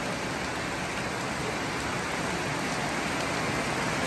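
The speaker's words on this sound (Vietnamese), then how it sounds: "Có mưa gió." Steady, dense rain with wind pours down around a rural dwelling, an unbroken loud hiss of drops on surfaces lasting the whole stretch with no voices.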